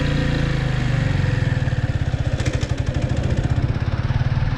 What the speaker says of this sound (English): so I'm going to give it a bit more gas.